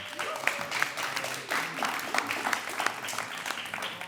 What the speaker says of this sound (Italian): un applausino